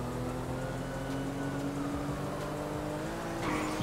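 Steady in-game car engine drone while driving a regular car during a GTA 5 roleplay police pursuit, a continuous mid-level hum that swells slightly near the end, no voices.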